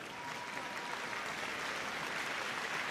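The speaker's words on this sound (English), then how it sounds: "Also, a huge round of applause." Dense, steady applause from a large crowd at the Crufts 2023 dog show terrier group award presentation, loud and sustained for the whole stretch without a break.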